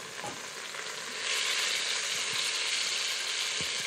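A cheap cut of beef browns in a hot pan, a loud, steady sizzle that swells after the pieces are stirred and moved around.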